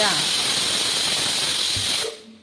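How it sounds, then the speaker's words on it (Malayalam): A pressure cooker holding chicken and potatoes lets off steam as one loud, steady, close hiss that holds for about two seconds and then cuts off abruptly. "കണ്ടോ ഒരു വിസിലടിച്ച് അപ്പം തന്നെ ഓഫാക്കുക"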